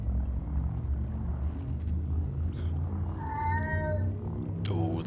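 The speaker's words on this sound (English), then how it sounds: "Oh, there's a cat in the background." A domestic cat meows a few times in the background, drawn-out tonal calls with a sharper cry near the end, over a steady low engine-like hum.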